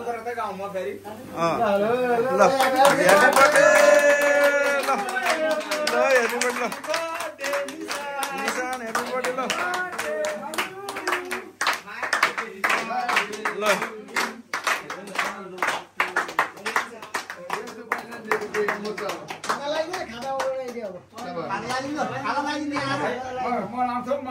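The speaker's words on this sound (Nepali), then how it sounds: "ताली पड्काइदिनु सबैजना" A group of people clap together at a birthday celebration, a dense burst of applause mixed with voices and chatter that continues unevenly across the scene.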